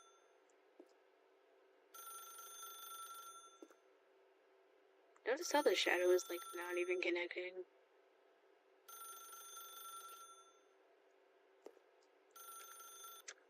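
A telephone in the video game The Stanley Parable rings in repeated electronic bursts separated by pauses, with a person talking briefly over one gap.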